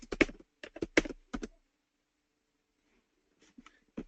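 Quick bursts of computer keyboard typing, several clustered clicks in the first second and a half, then near silence before a few faint keystrokes resume at the end.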